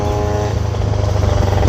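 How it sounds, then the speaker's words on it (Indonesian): A Honda Beat scooter's engine buzzes loudly and close while riding, with a rough, pulsing rev and road rattle underneath. "Motor Honda Beat tidak bisa mengejar Ninja"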